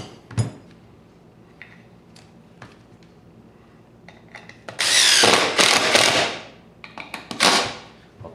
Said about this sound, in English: Tighten them 2 screws in.